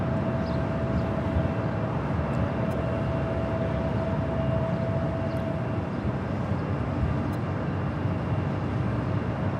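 A Norse Boeing 787-9 Dreamliner arriving from Paris at Los Angeles airport, a steady loud jet roar with a faint tonal whine, sustained throughout.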